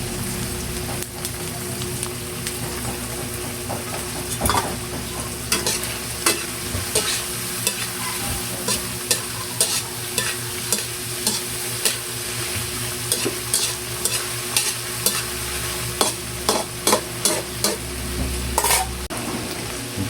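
Shrimp sautéing in a pan for butter shrimp, with a steady sizzle under frequent sharp scraping clicks from stirring, close and fairly loud throughout with no talking.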